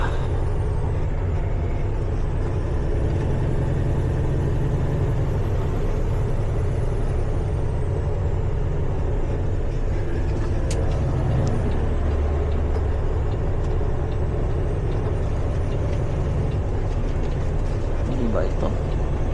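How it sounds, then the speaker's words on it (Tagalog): A day cab truck in Canada idles with its engine wanting to run a regeneration, a loud steady diesel rumble close by, with faint whining tones drifting above it the whole time. "Gusto mag-regen ng truck ko"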